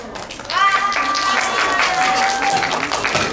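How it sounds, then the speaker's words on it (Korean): Students clap at a school fair, a steady patter of many hands that picks up after half a second, while a voice talks over the top of it. "박수 쳐."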